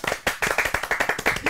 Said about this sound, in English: Can we have a round of applause for all of our team?